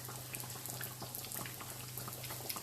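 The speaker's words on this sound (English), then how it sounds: "that's my dumpling in there, all frying and low heat" Jamaican fried dumplings sizzling in oil on low heat, a faint, steady crackle and bubbling heard close up and alone.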